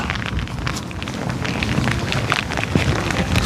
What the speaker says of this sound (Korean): 야, 쏟아집니다, 비가.